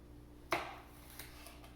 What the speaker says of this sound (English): peppers can be a little bit weird to cut because of their shape